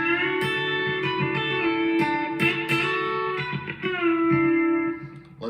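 B-bender electric guitar plays the opening part of a starter lick in the D bender box position, sustained bent notes and plucked phrases ringing clearly and alone with a slightly effected tone.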